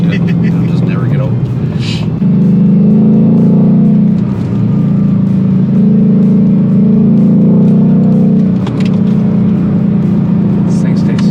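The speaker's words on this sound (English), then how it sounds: "Rev match downshift" Loud engine drone from a 2020 Ford Shelby GT500 on stock setup with dual rate springs, a brief blip rising as the driver rev-matches a downshift, then a steady heavy roar inside the cabin, with voices over it.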